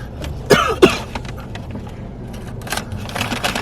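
A person coughs twice in quick succession over food at close range, two sharp harsh bursts, followed by faint rustling and handling sounds in a room.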